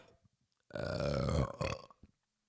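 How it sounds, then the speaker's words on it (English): A long, loud, guttural burp from a person on a talk show, rumbling for nearly a second and trailing off into a few short breathy sounds, close to the microphone with no talk over it. "Haven't had a burp on the show in a while, right?"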